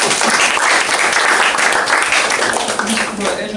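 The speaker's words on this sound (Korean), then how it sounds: "박수 한번 해야 되는 거 아니에요?" Dense, loud audience applause fills a Korean talk event from start to finish, a steady wash of many hands clapping with crowd voices mixed in.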